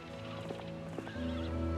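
A horse at a stable in Heroes of Might and Magic III gives a loud whinnying neigh over clip-clopping hooves, followed by a deeper, sustained snort-like tone.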